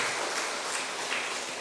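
A church congregation claps to welcome a newly baptized infant during Sunday worship, a steady, moderately distant wash of hand claps with no voices on top.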